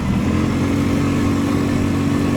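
A Loncin LX200ATV-U quad bike labours up a hill in a forest, its engine droning loud and steady in a strained, constant growl.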